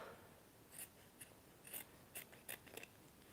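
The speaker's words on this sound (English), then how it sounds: "I'm just cutting little squares." Scissors snip small squares of fabric for decoupage Easter eggs, giving faint, crisp cuts in short irregular bursts with quiet pauses between them.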